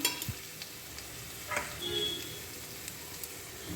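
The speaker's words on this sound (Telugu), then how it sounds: "ఈ ఉల్లిపాయల్ని కాసేపు వేగనిద్దాం" Onions with curry leaves and coriander fry quietly in a pan, a soft continuous sizzle with a few light scrapes and taps of stirring.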